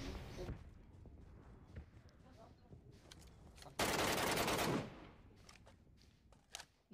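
Gunfire in a mobile battle royale game as an enemy player is shot, with a loud sustained burst of automatic fire in the middle and scattered shots and footsteps around it, under low talk.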